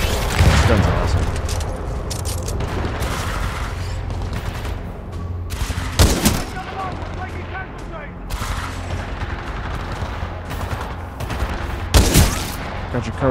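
Sustained gunfire from a gun in the video game Titanfall 2, rapid automatic shots in a dense, loud stream with a few heavier booming impacts standing out, a voice occasionally heard under the firing.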